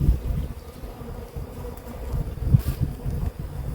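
A honeybee buzzes around a beekeeper's head near an open hive, a steady, rough droning hum that swells and fades as it circles close by.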